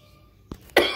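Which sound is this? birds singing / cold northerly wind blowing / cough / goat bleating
cough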